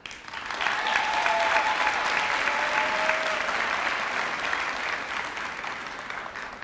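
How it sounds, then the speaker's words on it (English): An audience at the 2019 Northeast High School commencement ceremony applauds the parents with steady, dense clapping that holds for several seconds and slowly fades. "And now please give a round of applause for the parents."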